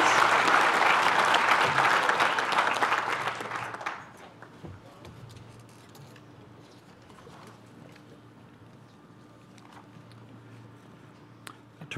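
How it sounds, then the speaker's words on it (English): Applause at an architecture school commencement ceremony for graduating students, a loud burst of clapping that dies away after about four seconds into quiet hall ambience with faint scattered sounds. "please join us in giving this wonderful group of students a beautiful round of applause"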